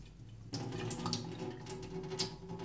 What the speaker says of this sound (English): And then you sieve the water out.